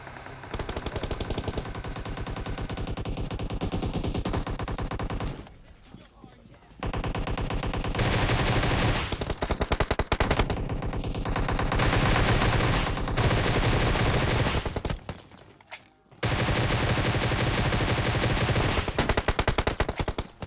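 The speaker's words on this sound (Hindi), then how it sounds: "मैं पीछे खड़े होके मारे जा रहा हूं गोलियां, और इनको खबर तक नहीं है" Loud, sustained automatic gunfire from the mobile game PUBG Mobile, with long rapid bursts of shots broken by two short pauses, dense and close throughout.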